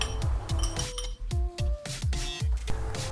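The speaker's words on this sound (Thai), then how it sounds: "ใส่ลูกสูบโชคลงไปในแกนโชคครับ เขย่าให้ปลายออกมาด้านนอกแบบนี้นะครับ" Sharp metallic clinks repeat in a quick irregular rhythm as a shock absorber piston is shaken inside the front fork tube of a Honda Wave 125, close and clear with no talking.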